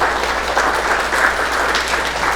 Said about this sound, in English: Fantastic job, and that's a round of applause